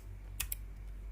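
Keystrokes on a computer keyboard while entering a Python file name: two or three quick clicks close together, then a single later tap, close and fairly quiet over a low steady hum.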